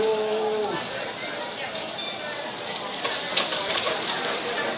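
Chorizo frying in oil in a pan with white wine to follow, a steady soft sizzle throughout with a few small crackles and pops, close and moderately quiet, a brief tonal sound at the start.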